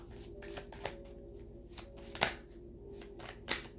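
Tarot cards being shuffled and drawn by hand, giving close, crisp riffling and soft papery slaps with a few sharper snaps, alone and without talk.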